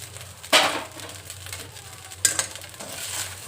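Fried aloo koftas stirred into rice in a pan: a few soft scraping, clattering spoon strokes with a faint sizzle underneath, close by and without talk.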